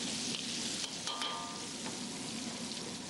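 Prawns frying in very hot fat give a steady, loud crackling sizzle that runs throughout with a few sharper pops and spits near the start.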